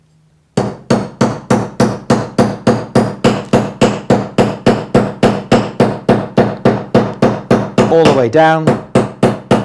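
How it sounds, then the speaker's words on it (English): Creasing hammer tapping along the folded edge of a copper sheet: a fast, steady series of sharp metallic taps, close and loud, with a brief spoken remark near the end. "we can use this creasing hammer to come along and tap that edge."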